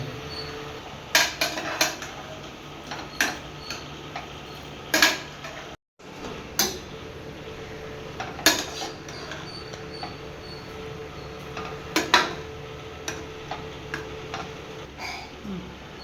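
Biryani ingredients being mixed in a cooking pot, with irregular spoon clinks and scrapes against metal, close and sparse, with occasional quiet talk.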